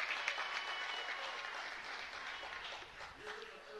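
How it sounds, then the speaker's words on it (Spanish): Applause at a city council meeting honoring a national championship team, a soft, steady wash of clapping from the chamber with faint voices beneath. "Les voy a dar un aplauso para los campeones."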